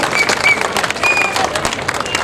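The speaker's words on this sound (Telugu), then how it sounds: "సో సార్ గట్టిగా అందరూ క్లాప్స్ కొట్టాలి సార్కి" An audience claps at a parlour launch event, a steady patter of many hands throughout the short stretch, with some voices underneath.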